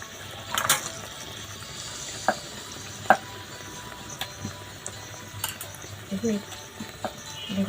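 Doi kachuri, yogurt-filled kachori, frying in hot oil with a steady soft sizzle and hiss, broken by a few light clicks and taps from the pan or utensil.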